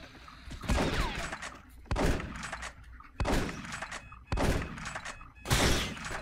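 Bursts of gunfire from the PC shooter Space Beast Terror Fright, five loud volleys roughly a second apart with broadband cracks and thumps between short lulls.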